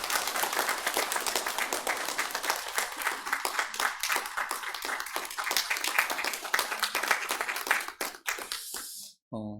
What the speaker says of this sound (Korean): 뜨겁게 박수하겠습니다.